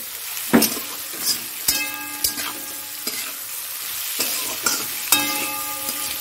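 Chopped onion goes into hot oil left from frying potatoes and sizzles steadily, with a spoon scraping and clinking against the pan in sharp intermittent knocks; nobody speaks.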